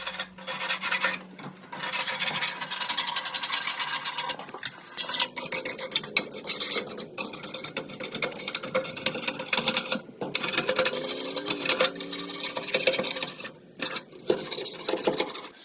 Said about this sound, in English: Use your brush, scraper, to agitate dirt and grease, paying extra attention to stubborn spots.